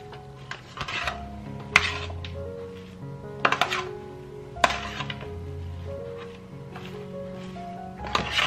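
Green onions and kale are stirred in a bowl, with soft scraping and clinking of a utensil against the bowl in short bursts, close and fairly quiet, alongside a steady background hum.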